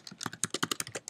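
Quick keystrokes on a computer keyboard while typing code, about a dozen crisp clicks in an uneven rapid rhythm, close and clear with no speech.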